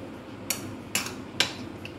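A spoon clinks against a bowl three times at an even pace while stirring yogurt with corn and a squeeze of lemon juice, close and fairly quiet, with a faint tap near the end.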